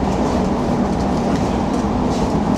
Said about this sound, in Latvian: Beidzot vilciens.